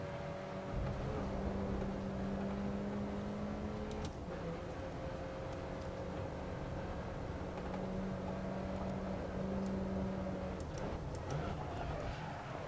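A race car engine in the racing game Grid Autosport holds a steady whining drone through a street lap, its pitch dropping and shifting at two gear changes, with a voice talking faintly underneath.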